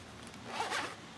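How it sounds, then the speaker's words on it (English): A zipper on a small zippered storage pouch of an HVAC tool bag pulls open in one quick, close, scratchy run of about a second, alone without speech. "right here some more zipper, zippered storage, a little pouch in here."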